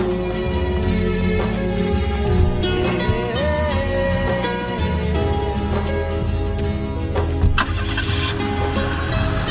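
A car engine cranking and catching, then running with a steady mid-pitched hum and a few revs, close and loud beneath a busy mix of other sound, with no one speaking.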